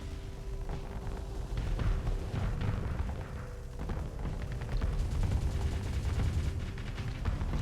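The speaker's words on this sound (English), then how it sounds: "Ooh, incendiary blaster to the face." Incendiary blaster cannon fire in the Starsector space game, a sustained barrage of heavy booming shots and crackling blasts that stays loud and dense throughout, with no talk over it.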